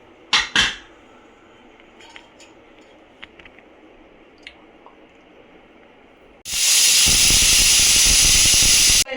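A pressure cooker of Andhra-style sambar with coriander added lets off a loud, steady hissing whistle of steam that starts abruptly and runs for about three seconds, after a few faint kitchen clinks.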